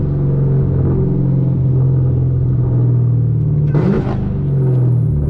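A Chevrolet Camaro ZL1 engine rumbles loud and close at night, holding a steady deep drone before a short sharp burst near the downshift, then settling back into its low growl.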